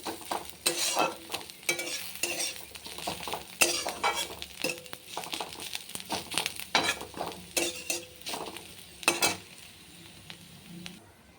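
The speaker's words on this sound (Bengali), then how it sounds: "হালকা করে ভেজে নেব" Potato and pointed gourd peels fry over low to medium heat in a pan, with a steady sizzle broken by repeated scraping stirs and light utensil clinks, close and alone without talk.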